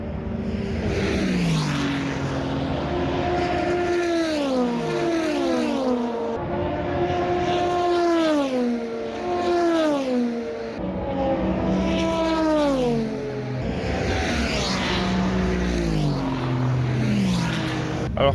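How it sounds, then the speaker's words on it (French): Prototype and GT race cars of the European Le Mans Series pass at full speed in a string of howling engine notes, each rising and falling Doppler sweep following closely on the last, loud and continuous. "où il y a encore les protos et les GT qui tournent"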